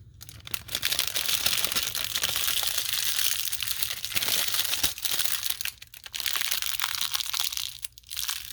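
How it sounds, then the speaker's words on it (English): Close, loud crinkling and crumpling of a plastic bag from a Revell model kit, continuous rustling with a few short pauses. "I guess we'll remove the old bag."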